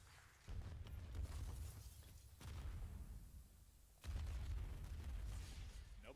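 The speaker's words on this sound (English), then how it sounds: "Just explosions all over the map as the utility thrust into it." Muffled in-game explosions from a Call of Duty League match boom and rumble in low, heavy waves, with several distinct blasts a couple of seconds apart, heard fairly faintly.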